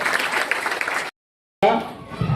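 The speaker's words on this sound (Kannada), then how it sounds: "ಸೊ ಫೈನಲ್ ಪಂದ್ಯಾವಳಿಯಲ್ಲಿ ಅತ್ಯುತ್ತಮ ಪ್ರದರ್ಶನ ನೀಡಿದಂತ ನಮ್ಮ ಶಾಲೆಯ ವಿದ್ಯಾರ್ಥಿಗಳಿಗೆ ಮತ್ತೊಮ್ಮೆ ಜೋರ ಚಪ್ಪಾಳೆ ಬರಲಿ" Loud crowd applause at a school gathering honours the students' kho-kho team after a final match, breaking off abruptly into silence and then resuming briefly.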